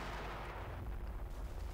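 Muffled, distant bursts of gunfire and booming explosions in the war game Combat Mission Shock Force 2, rumbling low and continuous at a fairly quiet level.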